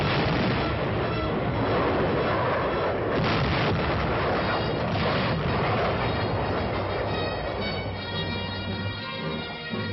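Loud, continuous rumbling roar of artillery fire during military training, dense and unbroken, with heavy low-end booming throughout.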